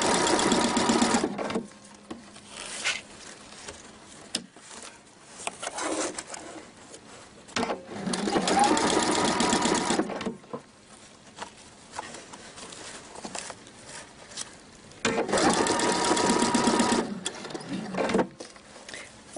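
A sewing machine stitching ribbon seams runs in several bursts of rapid, even clatter lasting a few seconds each, separated by pauses with softer handling noises, close and loud.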